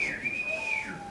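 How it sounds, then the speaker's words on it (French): A person whistles a single sustained, wavering high tone that glides slightly in pitch, close and clear with no talking. "C'est affreux comme vous sifflez là."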